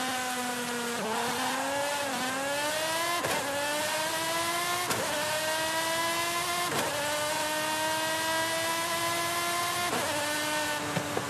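An Italian exotic car's engine in Forza Horizon 5 revs hard and climbs through the gears, with sharp shift breaks every second or two and a loud, continuous, raspy roar.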